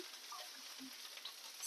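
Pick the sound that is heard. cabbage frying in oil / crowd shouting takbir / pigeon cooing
cabbage frying in oil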